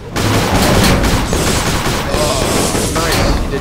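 Airship cannon fire from the Guns of Icarus video game, a dense, loud barrage of booming shots and clatter running steadily throughout, mixed with game noise and voices talking over it.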